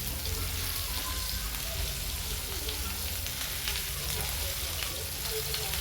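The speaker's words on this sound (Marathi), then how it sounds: "मच्छी मस्तपैकी फ्राय झालेली आहे एक साईडून" Fish fillets fry in hot oil in a pan with a dense, even crackling sizzle that continues without a break for several seconds, close up and unaccompanied by talk.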